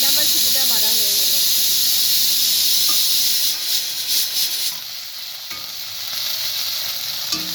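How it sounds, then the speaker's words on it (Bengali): A pressure cooker vents its whistle in a home kitchen during a meat curry with garlic, ginger and cumin paste, giving a loud, steady high steam hiss that runs throughout and eases slightly partway, with a faint voice briefly at the start. "2 নাম্বার সিটিটা মারা হয়ে গেল।"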